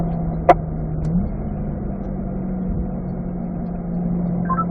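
Corvette running on a race track in third gear, a steady engine drone that holds fairly level and distant, with a brief sharp click near the start and no talk.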